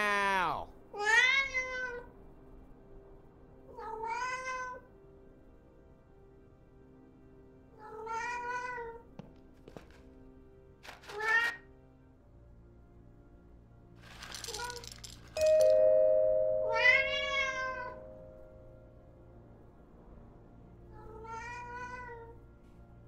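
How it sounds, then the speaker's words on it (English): A cat in the Alfred Hitchcock Vertigo video game meows repeatedly, about seven separate spaced calls over a low ambient hum, with a brief chime partway through. "Meow."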